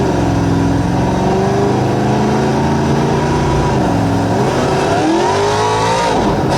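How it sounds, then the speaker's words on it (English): Car engine in the BeamNG driving game, loud and steady, revving up through rising and falling pitches as the car pulls away, with no talking over it. "start the car."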